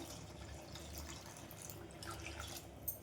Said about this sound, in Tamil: இப்பையும் வந்து கொஞ்சமாக தண்ணி சேர்த்துக்கலாம்